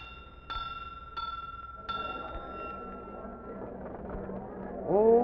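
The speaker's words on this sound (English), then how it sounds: "It says ring this bell." A bell at a palace door rings three times in clear, evenly spaced strikes whose tones fade, followed by a muddled rumble and a rising whistle-like sound at the end.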